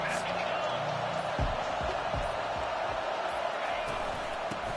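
Crowd noise from an NCAA 25 college football video game swells as a steady stadium roar behind a third-down play, broad and continuous with scattered louder bursts.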